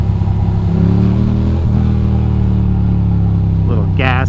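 Motorcycle ridden through city streets in Queens, its engine droning steadily and loud up close, rising briefly as the rider gives it a little gas for a speed bump, with a voice talking over it near the end.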